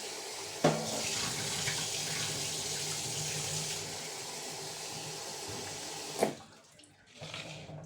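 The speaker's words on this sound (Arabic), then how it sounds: "اغسل بس البطاطس" Potatoes are washed under a running kitchen tap, a steady close rush of water splashing into the sink with a couple of knocks. The flow cuts off near the end, leaving faint trickles.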